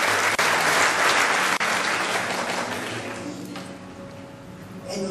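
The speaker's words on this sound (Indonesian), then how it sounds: "Berikan tepuk tangan buat Tuhan." A church congregation applauding loudly and steadily, the clapping gradually fading toward the end.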